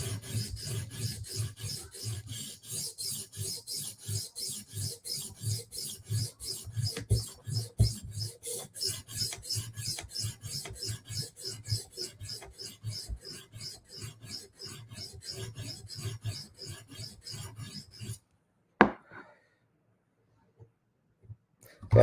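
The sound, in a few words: sharpening a blade to raise a burr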